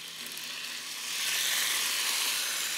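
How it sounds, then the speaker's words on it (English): Food sizzles in a frying pan with a steady, bright hiss that swells slightly partway through, heard alone without talk. "Everything that goes in the pan just sizzles."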